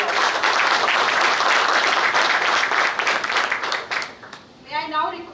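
A conference audience at a growth summit applauds to welcome a speaker, a dense, loud patter of many hands that thins out near the end as a voice comes in.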